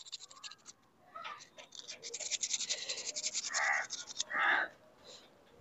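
A pico machine part is rubbed by hand to remove scratches, producing soft, repeated scraping strokes in quick rhythm, followed by a few longer, louder rubs.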